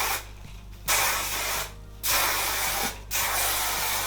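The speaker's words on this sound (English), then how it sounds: "I'm going in with my favourite Curlsmith hairspray." Curlsmith hairspray sprays onto curly hair indoors in three long, loud hissing bursts separated by short pauses, close to the listener.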